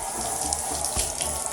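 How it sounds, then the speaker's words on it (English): Water runs steadily from a tap, filling a bath for a dog's bubble bath: a continuous, close, loud splashing rush with no voices. "Time for your bubble bath."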